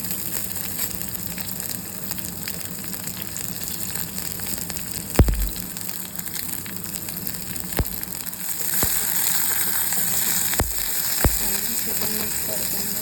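Chopped onion sautés with salt in a pan for poha cooked in little oil. A soft, steady sizzle runs throughout, broken by a few sharp clicks and taps of a spoon against the pan.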